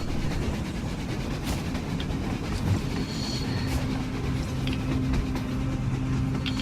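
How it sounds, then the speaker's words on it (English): A train rolls past on the surface in the Metro Exodus video game, a loud sustained rumble of rail cars with clattering wheels and a faint wheel squeal throughout. "A damn train on the surface!"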